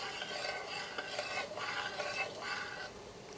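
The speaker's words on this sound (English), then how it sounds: "And just stir it." Spoon stirring diluted coconut milk sweetened with agave in a pot, a steady soft scraping swirl that continues alone throughout, close and moderately quiet.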